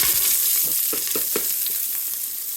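Onions hit a tablespoon of hot olive oil in a pan, giving a loud, close, steady sizzle with a few quick clinks and scrapes early on, no voices over it.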